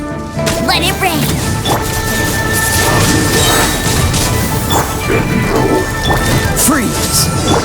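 A rain attack skill erupts in Genshin Impact combat, loud crashing impacts and rushing downpour-like noise over battle effects, with character voices calling out amid the clash.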